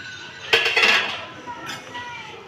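A metal lid is lifted off a pot of chicken katakat on the stove, giving a bright clink followed by a softer scrape and a second light metallic tap, close by.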